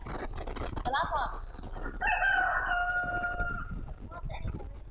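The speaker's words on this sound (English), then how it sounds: "What animal is it? It's a rooster." A rooster crows once, loud and close, its rising and falling call standing out over faint background talk from children and an adult.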